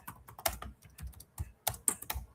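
Quick, uneven keystrokes clatter on a computer keyboard, a close and busy burst of typing with no voices over it.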